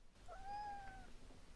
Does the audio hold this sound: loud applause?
no